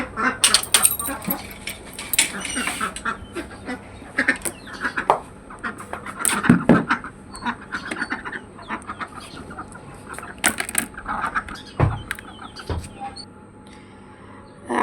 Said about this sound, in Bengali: আমার গেটের শব্দ পাইছে আমার মুরগিগুলো হাঁসগুলো ডাকা শুরু করছে